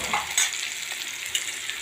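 Mung bean masala rice fries in a pan, giving a bright, continuous sizzle close up with a few light utensil clicks from stirring.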